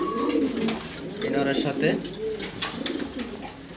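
A male grizzle pigeon sitting on eggs coos nearby in low, wavering rolls, while someone talks over the calls.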